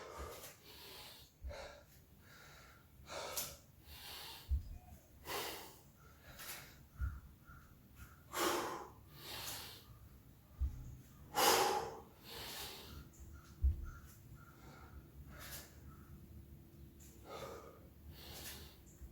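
Heavy rhythmic breathing during reverse lunges in a home workout, with sharp gasping inhales and forceful exhales repeating every second or two, close and isolated against a quiet background.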